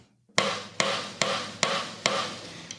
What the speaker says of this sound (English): it's kind of a foolproof cross stick sound, rim click, whatever people want to call it